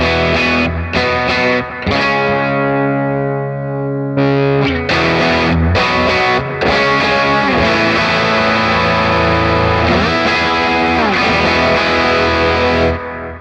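Electric guitar through a Matchless Chief 100 amp capture, flipping between a clean tone and a gritty overdriven sound, with short pauses between the switched passages.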